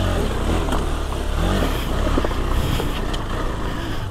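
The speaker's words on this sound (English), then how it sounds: "We got a dirt bikes coming and playing." Dirt bikes ride along an off-road trail, engines droning loud and close in a steady, unbroken roar with no talk over it.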